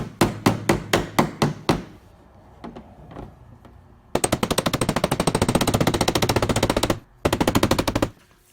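A quick run of light, sharp metallic hammer taps on a dented car body panel, then a long dense burst of rapid tapping, a short pause, and another fast burst, close and fairly loud.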